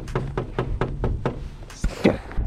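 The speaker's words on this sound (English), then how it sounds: "Knock on the door, though." Series of quick knocks on a door, about seven evenly spaced raps in a fast rhythm, then a few heavier irregular thumps, fairly close and with no talk.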